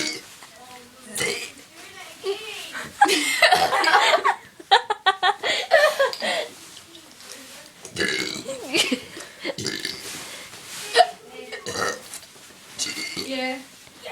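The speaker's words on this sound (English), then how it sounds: "burping the alphabet" A woman burps through the letters of the alphabet, delivering a series of loud, voiced belches one after another, with laughter, chuckles and brief talk breaking in between them.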